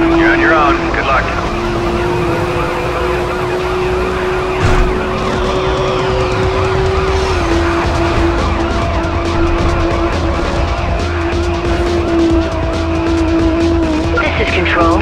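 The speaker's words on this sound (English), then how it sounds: "Subject is driving an orange McLaren." An orange McLaren races in the video game Need for Speed High Stakes during a police pursuit, its engine droning loudly and steadily with tire squeals and a siren-like tone throughout, and radio-style voices talking over it.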